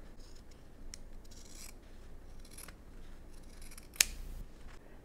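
Scissors trim a pressed quilt seam with soft snips and rubbing, ending in one crisp, sharper cut, heard up close in a quiet room.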